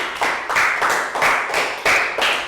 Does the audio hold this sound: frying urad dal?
no